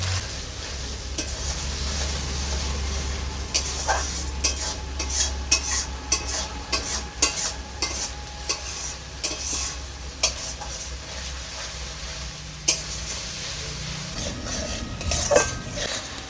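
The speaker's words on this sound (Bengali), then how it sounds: "মশলাটাকে এবার আমি ভালো করে কষতে থাকবো" Ginger-garlic paste and spices stir-fried for chicken maharani, with a constant close sizzle and rapid clinks and scrapes of a spoon against the pan throughout, no voices.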